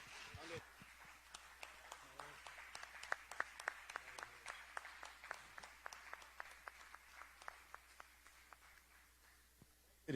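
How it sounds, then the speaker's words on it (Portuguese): A church congregation claps together in a steady rhythmic applause of sharp, evenly spaced hand claps that continues for several seconds over a quiet room. "vamos dar uma linda salva de palmas ao Senhor Jesus pela vida dos nossos visitantes"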